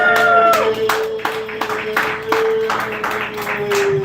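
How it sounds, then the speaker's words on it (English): Audience clapping for a comedian at a stand-up comedy show, a scattered burst of hands that swells and fades in waves, with a steady tone ringing through the room. "Clap it up for Trevor Gerald."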